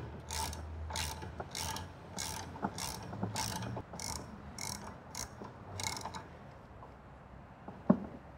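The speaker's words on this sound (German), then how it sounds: "Dazu nehmen wir einen 18er Ringmaulschlüssel und eine 1/2 Zoll Ratsche mit 18er Nuss." A half-inch ratchet with an 18 mm socket loosens the rear shock absorber nut on a VW Passat during a Bilstein B6 install, giving steady rhythmic clicking strokes up close, then a pause and a single sharp knock near the end.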